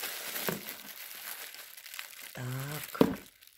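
A plastic bag crinkles and rustles steadily while being handled near an electric waffle maker, with a short burst of voice partway through.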